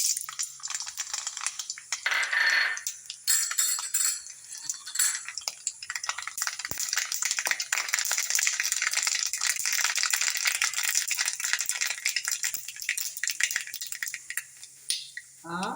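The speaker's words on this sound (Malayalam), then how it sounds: "ചട്ടി നല്ലോണം ചൂടായിട്ട് നമുക്ക് കടുക് ഇടാം കേട്ടോ." Mustard seeds crackle and splutter in hot coconut oil in a pan for a Kerala potato thoran, a dense, continuous crackling with sharp pops up close, no talking over it.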